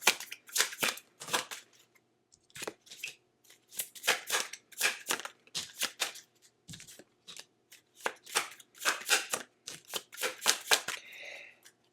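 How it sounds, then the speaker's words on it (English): Tarot cards being shuffled and pulled from the deck, a series of crisp riffling bursts in irregular groups with short pauses between them, close and clear with no talking. "I'm going to pull any more tarot cards just to see if anything else comes up for you in this month."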